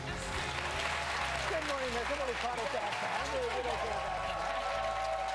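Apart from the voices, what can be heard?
excited studio crowd cheering and applauding in Times Square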